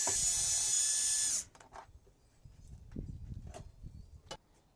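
Power tool loosening bolts while scrapping a microwave: a loud, steady whine for over a second, then stops, leaving faint clunks and handling noise.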